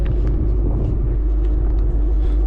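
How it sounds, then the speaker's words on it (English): 2016 Mustang GT with Kooks headers and Corsa Extreme exhaust, recorded from outside, a loud deep idle rumble with a few short throttle blips over a brief stretch; no talking. "This is gonna be an outside clip of how my exhaust system sounds."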